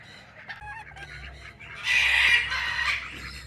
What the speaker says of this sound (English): here are 2 of our modern game roosters and a hen, a couple of hens.